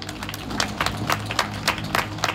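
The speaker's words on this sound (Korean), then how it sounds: "큰 박수 부탁드리겠습니다" Crowd applause at an outdoor memorial rally for the Aricell industrial disaster victims, steady scattered clapping with sharper bursts over a low background hum, moderately distant and continuous throughout.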